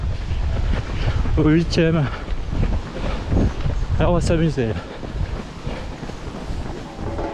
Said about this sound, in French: On a le vent de face.